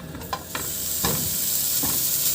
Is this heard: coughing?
no